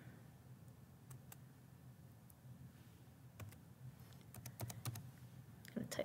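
Quiet clatter of typing on a computer keyboard, soft irregular keystrokes with a few louder taps toward the end, heard alone without speech.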